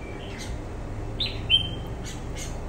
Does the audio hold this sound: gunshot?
no